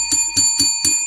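A bell rings in a steady repeating pattern, five bright strikes about a quarter second apart, loud and close with a sustained metallic tone between hits, no voices.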